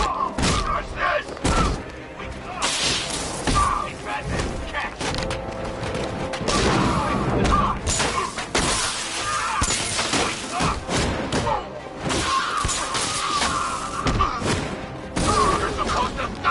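A bomb goes off amid the dense, loud action of the video game Batman Arkham Knight, with heavy thuds and booming impacts layered over a constant rumble of game sound.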